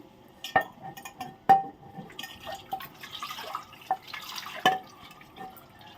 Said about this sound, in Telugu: అలా ఉడుకుతుంది, పులుసు అంతా దగ్గరకు వచ్చేసింది.